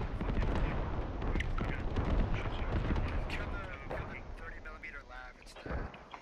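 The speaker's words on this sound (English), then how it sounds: "Keep shooting their HAB, they're gonna try and repair it" Rapid video-game gunfire aimed at an enemy HAB, heavy, continuous shots and booming impacts filling the scene at close range, with voices talking over the shooting.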